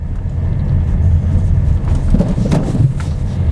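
Car cabin rumble as an SUV rolls over a speed bump at 30 km/h, a steady low road drone with a brief thump and rattle near the middle, close and loud.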